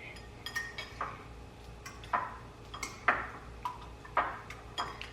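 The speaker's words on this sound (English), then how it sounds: "So you just whisk that in there." Eggs being whisked in a bowl for French toast, a steady series of light metallic clinks and taps against the bowl, close and fairly quiet, with no talking.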